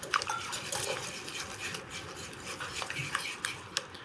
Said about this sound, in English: Use a whisk.